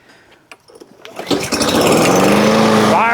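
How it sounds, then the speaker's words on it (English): A Sam's Club self-propelled gas lawn mower is started with a pull cord: a few tugs and sputters, then the engine catches and settles into a loud, steady running drone close by. "I can't believe that thing fired up on one pull"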